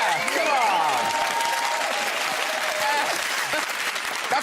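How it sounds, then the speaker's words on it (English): A studio crew applauds in a steady, dense round of clapping with some whoops and voices mixed in. "That's real applause. That's the crew."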